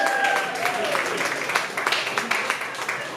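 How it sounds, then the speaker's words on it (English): Comedy club audience at Broadway Comedy Club gives a round of applause, moderate clapping with distinct individual claps becoming more separate as it tapers, while whoops and a voice ring out at the start. "Give him a nice round of applause"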